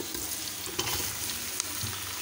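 Chicken fries with garlic and onion in a pan, giving a soft, steady sizzle broken by a couple of quick stirring clicks, close and low in level, with no speech.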